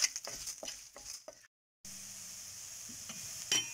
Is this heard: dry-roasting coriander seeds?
yes